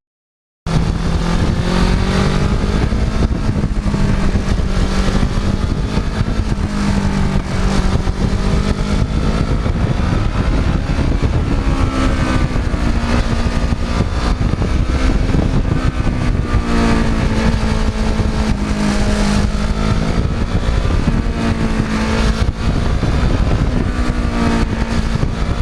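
Kawasaki Ninja motorcycle engine on the move, a loud, steady drone that rises and falls with throttle across the whole stretch, with no talking.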